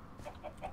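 Chickens in the video game Minecraft give three short, close clucks in quick succession, clear and alone against a quiet background.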